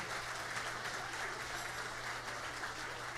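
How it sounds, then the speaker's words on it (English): Audience applause for a county band at a band festival, a soft, steady wash of clapping heard from a distance with no talk over it. "Can we give them another round of applause"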